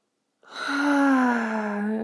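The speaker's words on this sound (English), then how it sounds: "Inhaling for 1 through the nose. And let it out through the mouth." Slow deep breath during a guided yoga session, a long nasal inhale rising after brief silence and sustained steadily, breathy and close.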